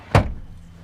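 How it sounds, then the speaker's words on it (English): Rear seats of a 2021 Hyundai Palisade 3.5 V6 eight-seater knocked down flat, giving a single loud, close thump with a short rumbling tail, then quiet. "all you have to do is just knock the seats down like this"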